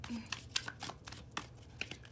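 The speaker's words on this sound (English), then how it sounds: "So let's finish shuffling this deck." Brief riffling and flicking of cards being shuffled close by, a few quick snaps in a short burst.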